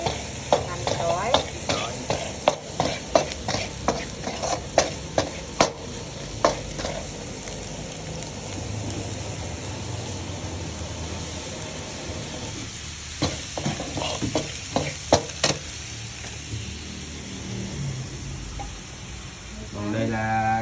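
Squid fries in a hot pan with fish sauce, garlic and shallots, a steady sizzle broken by bursts of sharp scraping stirs, close and loud, with a louder stirring run near the end and no talk.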